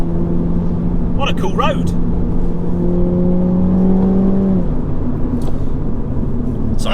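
GT car engine roaring steadily at full throttle before lifting off, its drone dropping away sharply; a person speaks briefly over the engine near the start.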